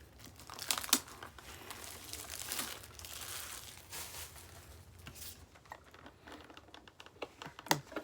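Close crinkling and rustling of plastic packaging as a Pokémon Dragonite tin is unwrapped and handled, with scattered sharp clicks and taps of the metal tin, irregular and fairly quiet, no voices.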